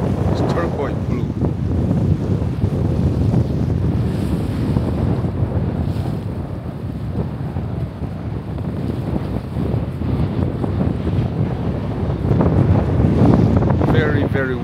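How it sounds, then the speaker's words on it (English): Strong, steady wind roars and buffets the microphone throughout at high elevation at Crater Lake National Park, a dense, continuous rush with gusts that swell near the end. "Very, very windy because this place has a very high elevation."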